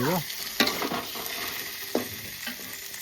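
Bhakur fish frying with masala in a pan, a steady close sizzle broken by a few sharp stirring scrapes of the spatula.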